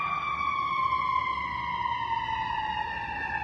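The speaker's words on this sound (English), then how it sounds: "We're going to let the fire truck go." Fire truck siren passing on a busy evening street in St. Louis. A loud, continuous wail slowly slides downward in pitch and stays strong for the whole stretch, with no talking.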